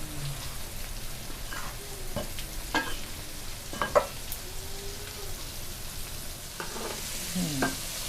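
Catfish fries in hot oil for a second time, sizzling steadily and crackling close up, with a few scraping stirs over the bubbling.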